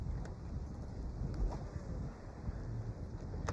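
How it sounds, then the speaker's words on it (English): Strong wind roars in a steady, heavy rush across rough open water at a fishing spot, buffeting the microphone continuously with a few faint knocks and no voices. "You can see that wind coming down the rough water behind us."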